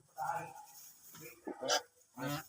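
Several loud nasal quacking calls from ducks, in short bursts with brief pauses between them, fairly close.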